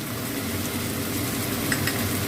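Pabda fish in sour yogurt gravy fries with turmeric, Kashmiri chili powder and sugar, giving a dense, steady sizzle with a continuous crackling hiss throughout, no voices.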